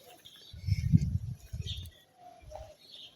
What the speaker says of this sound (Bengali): বাইরে পাখির কিচিরমিচির শব্দ